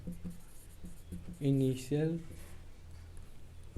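Chalk or marker taps and scratches against a classroom board while numbers are written, faint short strokes heard beneath a teacher speaking.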